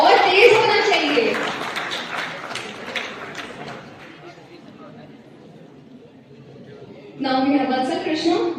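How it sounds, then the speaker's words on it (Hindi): Audience clapping at a youth summit held at DAV PG College, BHU in Kashi, loud at first, thinning out to a weak patter, then swelling again near the end, with crowd chatter mixed in. "तालियां कमजोर पड़ गई"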